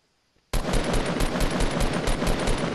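Rapid automatic gunfire in the video game Fortnite, a loud sustained burst of evenly spaced shots that starts abruptly after a brief near-silence and continues to the end.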